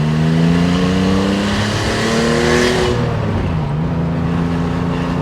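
A 1983 Porsche 911 SC engine pulls hard from inside the car, its rising rev tone climbing steadily before easing off briefly and building again.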